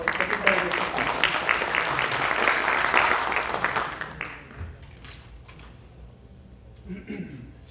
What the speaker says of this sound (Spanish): Les ruego un aplauso para el doctor Miguel Pérez Arroyo